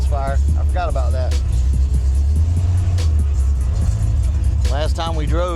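A coupe's engine idles in a low, steady rumble with a slight misfire, running continuously beneath someone talking close by.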